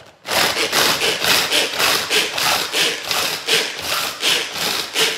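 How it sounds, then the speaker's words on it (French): Tornado food chopper grinding biscuits down to powder, a loud continuous harsh whirring with rhythmic surging pulses, close up and with no voices. "je vais faire un peu de bruit, j'attaque le tornado."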